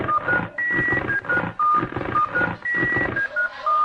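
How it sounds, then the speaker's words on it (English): Cell phone ringtone in a cartoon, a bright, catchy electronic melody of short beeping notes in a quick bouncing rhythm, loud and close, with no talk. "Her cell phone ringtone starts playing a catchy melody."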